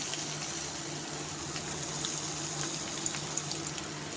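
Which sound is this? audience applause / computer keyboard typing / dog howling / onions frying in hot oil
onions frying in hot oil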